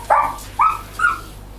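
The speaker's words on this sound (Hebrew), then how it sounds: "סתם הכלבים שם בחוץ." Three short, sharp dog barks spaced evenly about half a second apart, heard from outside at moderate distance with no voices.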